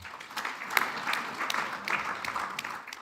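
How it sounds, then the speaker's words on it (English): Applause at a judicial conference of the East African Court of Justice, a scattered hall of hands clapping unevenly at moderate distance, quiet and brief, with a faint voice underneath. "Give him a clap."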